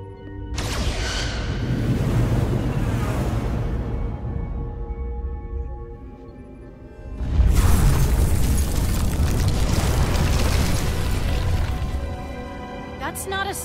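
Starship weapons fire and heavy explosions rumble in a Star Trek Resurgence space battle, with two long booming bursts separated by a brief lull, loud and close.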